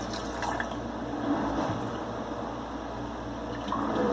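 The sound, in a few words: filling canning jar with chicken veggie soup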